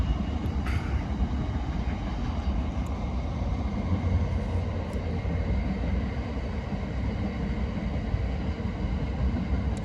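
Locomotive 66129 rumbles past steadily, heard from a canoe, for the whole stretch, a dense low roar with constant rattling, fairly close and unbroken.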